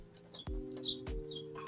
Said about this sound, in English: it's just like how you be sometimes with the birds chirping